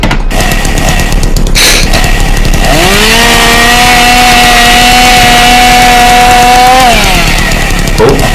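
A chainsaw engine roars loudly and continuously throughout, rising in pitch as it revs up, holding at a high whine for several seconds, then dropping back down, with heavy broadband noise underneath.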